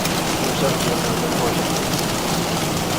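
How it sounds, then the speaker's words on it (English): Steady rain in the X-Plane 12 flight simulator during a flight from Nashville to Chicago, a dense even hiss of drops on the aircraft with no breaks. "Sounds like it's raining."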